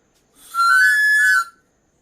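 A broken mouth whistle blown once in a rural hillside farm setting, giving a single steady, fairly loud tone of about one second with a slightly breathy, buzzy edge, heard alone.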